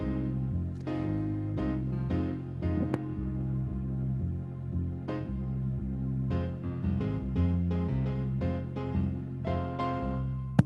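Keyboard playing a relaxed jazz club style accompaniment to a song, with chords and walking bass notes over light swung rhythm, moderately quiet and alone.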